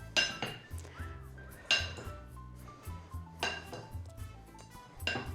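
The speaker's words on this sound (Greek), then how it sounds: "Και ανακατεύουμε" Macaroni mixed with cheeses, including kasseri, is stirred in a bowl, giving repeated clinks and scrapes of a utensil against the dish in an uneven rhythm, close and moderately loud, with faint tonal music running underneath.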